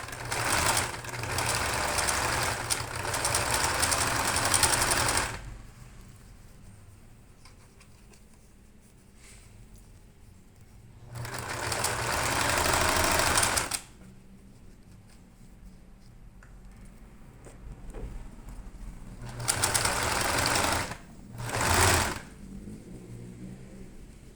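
Sewing machine backstitching through a thick fabric bag strap, with three loud bursts of stitching about 5, 3 and 2 seconds long separated by quieter pauses, close up and alone.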